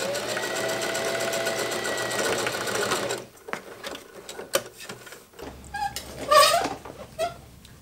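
A home sewing machine stitches down the folded pocket on a pair of pants with a fast, steady whirring hum, then stops. Quiet handling clicks and rustles follow.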